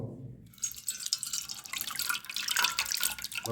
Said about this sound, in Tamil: நம்ம இப்போ புளியை கரைச்சிக்கிட்டு இருக்கோம். வாங்க கரைச்சி ஊற்றுவோம்.